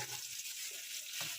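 Ginger garlic paste sizzles steadily in a hot pan while cooking a mushroom and potato dish, a soft continuous frying hiss with faint stirring clicks.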